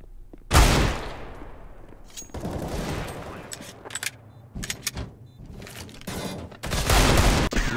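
Desert Eagle gunshots in a video game: a sharp, loud shot opens, followed by scattered further shots and game noise, with a dense burst of fire near the end.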